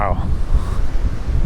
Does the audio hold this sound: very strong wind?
yes